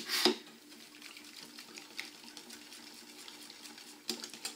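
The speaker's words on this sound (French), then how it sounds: "Ce coup-ci, on va mélanger au fouet." Cream being whisked by hand in a bowl for a birthday cake, faint rapid ticking of the whisk against the bowl with a sharper clatter at the start and near the end.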